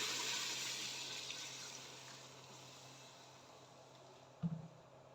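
About 1.5 litres of water poured into a pressure cooker of beef nihari, a steady rushing splash that fades gradually, ending with a brief low knock.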